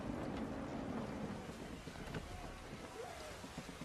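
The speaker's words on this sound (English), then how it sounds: "Gusty winds can be difficult to manage." Gusty wind rushes past a sailing ship on the open sea in Assassin's Creed III. A broad, airy roar rises and falls, with faint creaks and a brief tonal whistle near the end.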